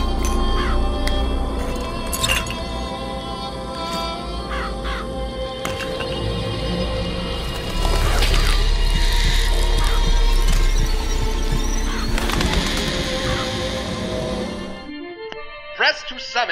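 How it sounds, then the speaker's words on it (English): Crows summoned by a vigor in Bioshock Infinite caw harshly again and again over a dense game soundscape. The cawing goes on for several seconds, then cuts to near silence. "Press to summon murderous crows."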